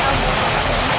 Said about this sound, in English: Huge waterfall, almost finished completely